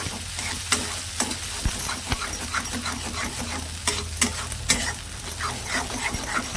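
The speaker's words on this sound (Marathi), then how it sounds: "मसाला आहे ना चांगला असा परतून घ्यायचा आहे तेल सुटेपर्यंत" Masala sautés in oil with a crackling sizzle as a spatula stirs it. Repeated scraping knocks against the pan come through close and busy throughout, with no speech.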